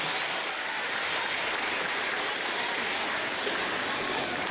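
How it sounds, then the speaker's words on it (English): Boys and girls at a Grundy School awards ceremony applaud their teachers, a dense steady roar of many hands clapping at even loudness throughout. "let's give our teachers a big round of applause"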